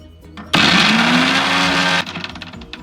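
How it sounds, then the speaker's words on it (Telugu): A mixer grinder blends tomatoes for pickle in a loud, steady whir lasting about a second and a half, starting and stopping abruptly, with quieter kitchen sounds on either side. "ఇలా మిక్సీ చేసుకున్నాం కదా, మిక్సీ చేసి ప్లేట్లోకి తీసుకున్నాం కదా."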